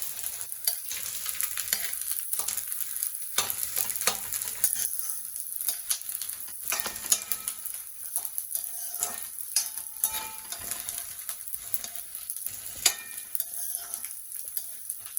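Edible gum (gundar) frying in hot ghee for a traditional Gujarati adadiya pak sweet, a steady crackling sizzle with fine popping bursts running throughout, close and moderately loud with no talking.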